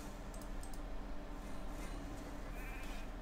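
Sheep bleats from a polymorph skill in Raid: Shadow Legends, a couple of short, faint high calls over a dense, steady game backdrop of music and effects.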